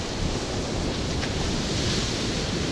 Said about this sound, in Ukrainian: Да, хвиля гарна, яка дивіться.